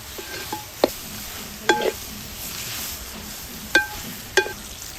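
Chicken frying with browned onions for a Kerala village-style winter melon curry: a low, continuous sizzle broken by a few sharp, close scrapes as a spoon stirs the pan, with no talking.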